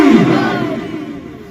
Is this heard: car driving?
no